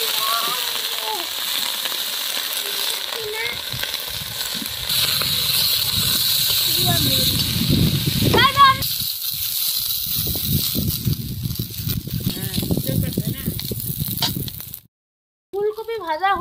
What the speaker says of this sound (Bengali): আমি ফুলকপিগুলো ভেজে নেব।